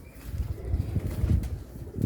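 Young Sialkoti black-faced pigeons coo softly in low, repeated throaty pulses, close by, with faint rustling in the background.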